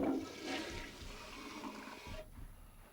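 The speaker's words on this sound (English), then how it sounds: "can turn on the faucet and flush the toilet" A toilet flushes in the PS2 prison survival horror game The Suffering, a steady rushing of water for a few seconds that cuts off abruptly near the end.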